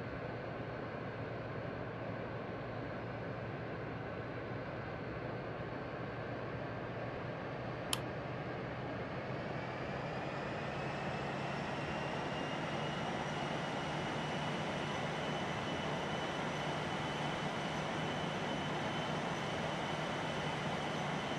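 A Bombardier CRJ900 jet rolling down the runway for takeoff in the Rortos flight simulator game, a steady broadband engine roar with a rising whine, continuous and loud with no speech.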